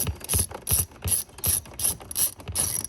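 Ratchet wrench turning a T27 Torx fastener on a 2012–2018 BMW M6/M5, a rapid rhythmic series of sharp pawl clicks in repeated bursts, close and loud with no talk.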